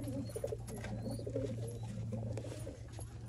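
Several old-line pigeons at a pigeon sale in Bangalore coo in a soft, steady, low murmur that runs throughout, with faint rustling and pattering in the background.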